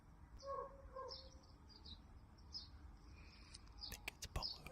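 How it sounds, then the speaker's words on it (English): Birds chirp outdoors in a series of faint, scattered high tweets and calls over a soft noisy background, ending with a few sharp clicks. "You guys hear the birds?"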